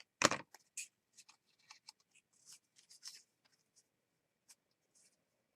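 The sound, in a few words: cutting a piece of green paper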